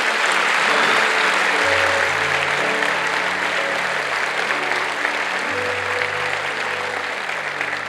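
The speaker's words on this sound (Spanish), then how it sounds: "Da un aplauso a Jesús." A church congregation applauds during a service, sustained dense clapping from many hands filling the room throughout, with music or sustained tones running faintly underneath.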